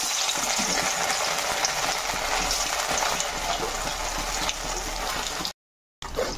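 Bread chops frying in hot oil in a kadai, a loud, continuous close hiss and crackle that cuts out briefly near the end, with no talk.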